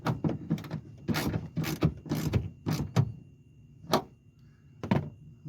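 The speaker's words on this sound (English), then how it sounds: "just snug them down with your ratchet" Ratchet snugging down bolts that hold a car's interior trim piece, a run of quick clicking bursts with a few separate sharp clicks afterward, close and fairly clear.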